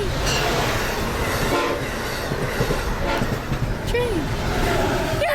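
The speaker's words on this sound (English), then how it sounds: "It's coming. There's a train fucking coming." A train rolls past near a rail bridge construction site, its horn blaring in loud, sustained blasts over steady rumbling wheels and wagons, with excited voices talking throughout.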